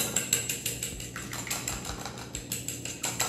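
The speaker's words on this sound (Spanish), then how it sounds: "Voy a batir el huevo." An egg beaten in a bowl with a utensil, a quick steady series of light clicking taps, about four per second, fairly faint and close, with no talk over it.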